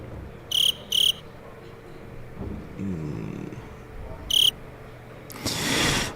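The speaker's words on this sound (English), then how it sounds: "Let's get those crickets noises out" Cricket chirping sound effect played during a pool match, a steady faint insect trill running under short bursts of louder noise and a closing rush of broadband sound.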